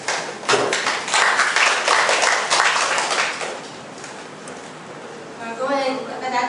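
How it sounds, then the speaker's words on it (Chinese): Audience at a self-introduction meetup in Kaohsiung breaking into warm applause for a speaker, dense clapping for a few seconds that fades as a voice begins talking. "好，我们掌声欢迎雨柔。"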